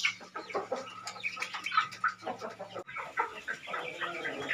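Young Bangkok gamecock roosters cluck repeatedly in a farm pen, several birds calling near the microphone in a busy, overlapping stream of short clucks and squawks with no talk.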